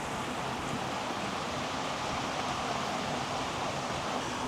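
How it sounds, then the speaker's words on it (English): Steady, dense rushing and bubbling of water at a rolling boil in a pot for pasta, constant and close throughout with no talking. "All right, water's good and boiling."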